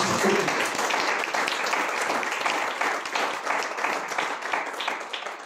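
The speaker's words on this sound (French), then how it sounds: "je vous demande de l'applaudir bien fort" Audience applause at a talk with a journalist and author, a steady, dense wash of clapping from the crowd that carries on evenly throughout without any voice.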